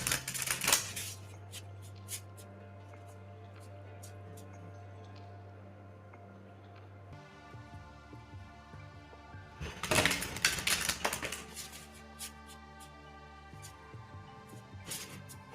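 Tarot cards are shuffled close by in quick, crisp riffling bursts, a steady flutter of card edges that swells into a denser, louder run partway through, over a faint constant hum.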